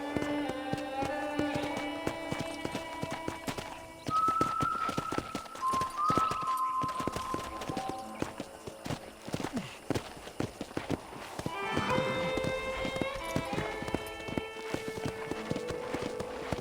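Horses clip-clop at a walk and trot through the property in Red Dead Redemption, with steady hoofbeats running throughout beneath background music and occasional voices.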